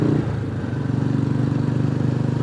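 A Royal Enfield Classic 350 motorcycle on the move, its single-cylinder engine thumping in a steady, pulsing rhythm, loud and close throughout with wind noise behind.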